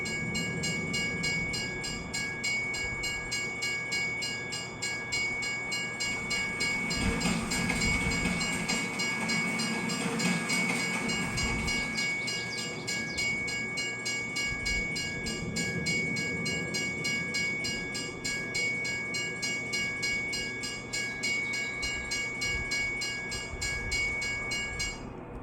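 A train from Farming Simulator 22 rolls past a railroad crossing in a steady, continuous rumble with rail clatter, while the crossing bell rings in a fast, even, high-pitched pattern throughout, with no horn.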